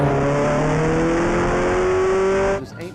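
A Ferrari sports car engine revs loud and close, its pitch climbing steadily for about two and a half seconds before cutting off abruptly.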